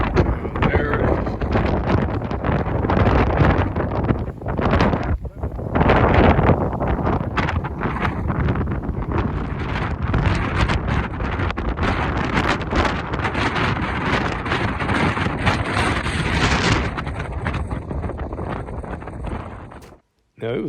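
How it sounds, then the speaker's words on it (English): Strong wind at Meteor Crater in Arizona buffets the microphone with loud, continuous roaring gusts for about twenty seconds, rising and falling at the same close level, with possible faint voices underneath. "it was so windy here"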